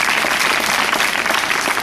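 A school audience gives a dense burst of steady, loud clapping from many hands, filling the room with no pauses.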